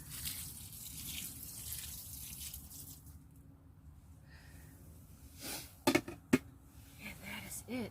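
Water splashes and trickles onto plant soil in a greenhouse, faint and low, with a few sharper louder splashes toward the end.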